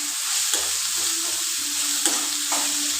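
Tomato and okra fry in oil on a pan, a dense close sizzle running throughout, broken by a few sharp clicks from stirring, with no voices.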